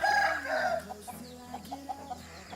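Chickens clucking at close range in a small backyard flock, a few short clucks and calls scattered over a low steady background, no talking.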